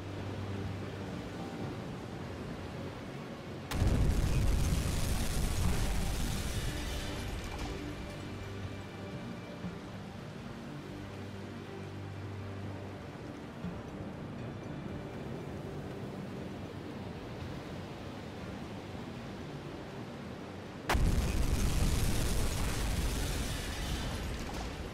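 Torpedoes strike ships in the submarine game Uboat: two loud, deep explosions, far apart, each a sudden blast that fades into a long rumbling roar over steady sea ambience.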